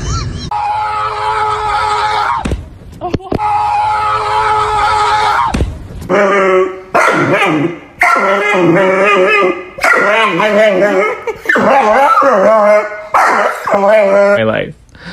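Dogs barking and yipping in a domestic setting, a run of bright repeated barks with pauses, close and loud, with people talking over them at times.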